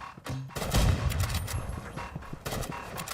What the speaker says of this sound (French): Oh, il joue lance-grenade.